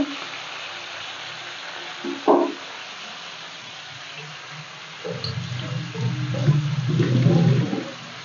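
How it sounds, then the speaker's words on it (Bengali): Small tangra fish fry in oil in a pan, a near sizzle that starts low and swells into busy bubbling and spattering toward the end, with a brief clack early on. "ট্যাংরা মাছগুলো একটু ভালো করে ভেজে নিতে হবে"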